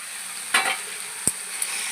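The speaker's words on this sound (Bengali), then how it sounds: "ফুলকপি আর আলু দিয়ে একটু কষিয়ে নেব" Potatoes and cauliflower stir-fried in spiced oil in a home kitchen, with a steady faint sizzle broken by a couple of short scraping stirs and a sharp utensil knock near the pan.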